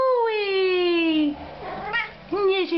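A house cat gives a long, drawn-out meow that slides downward in pitch, then a pause and a few shorter, wavering meows, close to the microphone.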